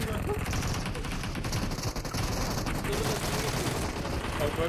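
Rapid automatic gunfire from a shooting video game, dense and continuous throughout, with voices talking over the shooting.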